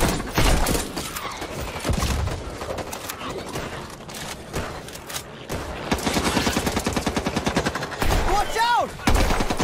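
Gunfire from a PS5 video game comes in rapid bursts of loud shots and automatic fire, sharp and close, with brief gaps and game effects between volleys.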